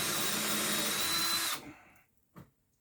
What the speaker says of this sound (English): I'm just going to go ahead and pilot a hole